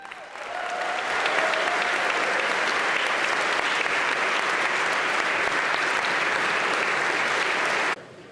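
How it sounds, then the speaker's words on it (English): A full assembly audience in the Pennsylvania General Assembly chamber applauds the First Lady, Lori Shapiro, during a governor's budget address: a dense, steady wall of clapping that swells in over the first second, holds evenly, then cuts off sharply near the end. "Y'all are real smart to clap for her."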